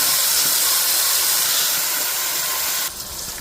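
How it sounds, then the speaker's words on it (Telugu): Chutney is poured into hot tempering oil for a dosa side dish and sets off a loud, close, steady hissing sizzle that runs for nearly three seconds before dropping sharply to a quieter crackle, with no talk. "పోపు చక్కగా వేగింది ఇప్పుడు నేను ఈ పచ్చడి అంతా ఇందులో వేసేస్తున్నాను"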